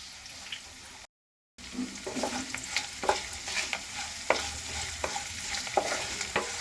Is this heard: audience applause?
no